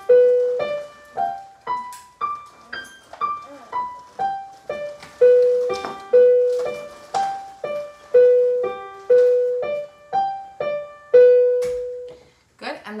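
Piano playing a single-hand Czerny 4C exercise, a steady stepwise run of distinct notes struck one after another with each decaying before the next, close and clear with no talk.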